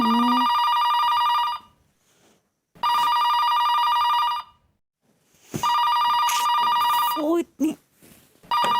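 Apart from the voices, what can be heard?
telephone ringing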